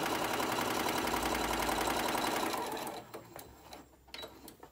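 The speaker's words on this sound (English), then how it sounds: "Then you're going to turn it. You're going to sew the bottom." A sewing machine stitches the bottom seam of a Christmas pillowcase, running fast and steady with a rapid mechanical rattle for about three seconds, then stopping, followed by faint clicks and fabric handling.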